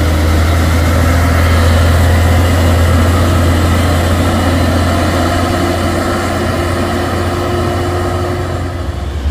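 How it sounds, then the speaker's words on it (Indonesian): Hino trucks labour uphill on the Bukit Kodok climb, a steady loud low engine drone with a constant heavy rumble, alone without voices. "Dua unit truk Hino"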